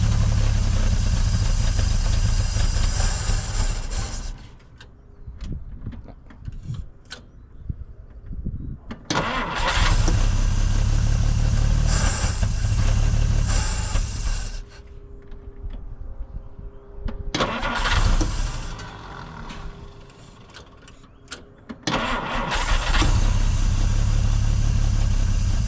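A 1950 Dodge Meadowbrook engine cranks and fires repeatedly, catching and roaring loudly in bursts before dropping out, with quieter gaps between the starts.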